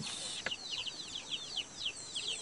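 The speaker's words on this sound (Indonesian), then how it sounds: "Banyak ayam-ayam." Chickens cluck and chirp close by in a rural yard on Kalimantan, a busy run of short overlapping calls with no voices.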